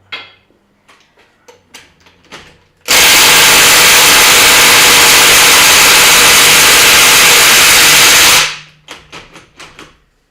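A power tool, likely a Ryobi impact gun, hammers loudly and continuously for about six seconds on a lug nut of a 2012 Ford Explorer, with scattered clicks and taps before and after.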